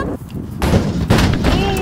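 A vending machine kicked hard, giving heavy booming thuds with rattling metal at about 0.6 and 1.1 seconds, loud and close, with sharp excited voices around the impacts.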